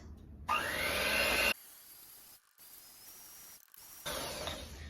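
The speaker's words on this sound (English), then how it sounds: "You can do a stand mixer or a handheld, and we're gonna cream this together for about 2 minutes." Electric mixer creaming butter and sugar for sourdough pistachio chocolate chip cookie dough: a whirring motor runs in loud and softer bursts, briefly stopping and restarting, close up with no talk.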